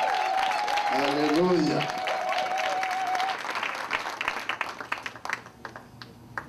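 Church congregation applauding and acclaiming during a worship service, dense clapping under a singing voice and crowd talk, thinning into scattered claps at the end.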